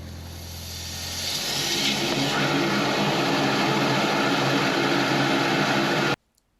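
A high-pressure sewer jetter forces water up a drain pipe toward an upstream manhole, a steady loud broadband rush with a pump drone that builds over the first seconds, holds evenly, then cuts off abruptly.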